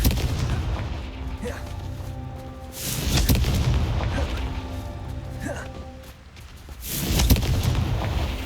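Confringo fire spell blasts in the Hogwarts Legacy video game go off as three loud booming explosive bursts spaced a few seconds apart, each with a crackling impact and rumbling tail amid continuous game background sound.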